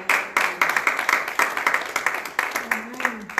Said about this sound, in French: On acclame encore pour le Seigneur.